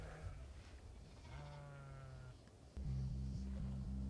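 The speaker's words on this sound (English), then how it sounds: "It wasn't long before a big group of wild sheep showed up." Wild sheep bleat faintly in the distance as a herd arrives during a Texas archery hunt, with a few wavering calls over quiet outdoor ambience, followed by a steady low hum.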